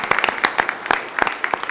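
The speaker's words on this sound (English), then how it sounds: "Big round of applause" Audience clapping at a school board meeting, a brief burst of distinct, fairly close handclaps from a small group in a room.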